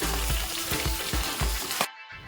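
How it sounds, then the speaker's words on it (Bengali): Hilsa fish heads fry crisp in hot oil with a steady, loud sizzling hiss broken by soft, rhythmic bumps, then cut off abruptly near the end. "ইলিশ মাছের মাথাগুলো আমার ভাজা হয়ে গেছে কড়া করে এবার আমি তুলে নিচ্ছি"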